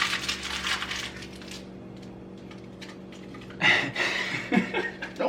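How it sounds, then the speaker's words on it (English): Small balls of crumpled aluminum foil drop into a cooking pan, making a few crinkly, tinny clatters close up after a stretch of faint rustling. "I'm ripping up a little bit of aluminum foil, making it into balls, and then putting them in the pan."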